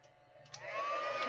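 A hair dryer switches on indoors and runs with a steady rising whoosh and whine, close by and moderately loud, after a quiet start.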